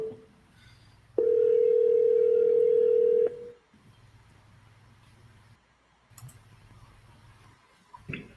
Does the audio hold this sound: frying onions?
no